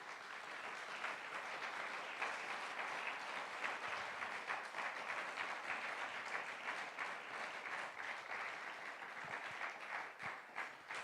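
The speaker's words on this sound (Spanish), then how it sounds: "¿Pueden darle un aplauso al Señor por eso?" A church congregation applauding in praise to the Lord during a sermon, a continuous dense spread of clapping from many people, somewhat distant and quiet, fading slightly near the end.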